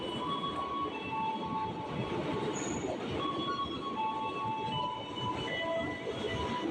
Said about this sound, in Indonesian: naik KRL komuter lain jurusan Jakarta Kota